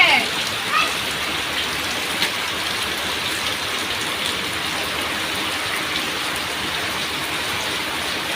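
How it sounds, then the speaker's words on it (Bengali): Steady rain pours down, a dense even hiss of drops hitting surfaces, constant and fairly loud with no voices. "ভালো লাগে, কতদিন পর বৃষ্টি"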